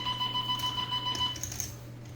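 A poker tournament's blind-level timer sounds a repeated electronic beeping alarm in quick even pulses that runs for over a second and then stops, over a low background hum.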